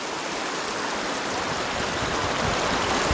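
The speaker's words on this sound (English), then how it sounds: "Look at this. Water. So amazing after you've been in the desert for so long." Mountain stream water rushes and splashes along the Pacific Crest Trail near Forester Pass, a loud, dense, continuous roar heard up close with no voices.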